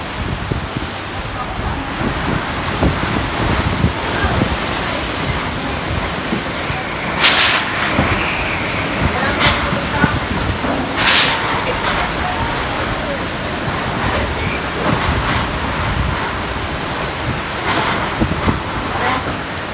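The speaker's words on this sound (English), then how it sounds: "it started to get really windy." Steady, loud typhoon wind in the Philippines roars and buffets the microphone throughout, with brief gusty surges and faint voices underneath.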